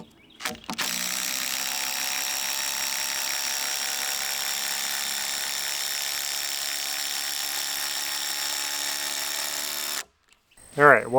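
Power drill driving screws into heavy wooden beams on an outdoor dog kennel build, a steady sustained whir running about nine seconds with a brief start and a short burst after it stops.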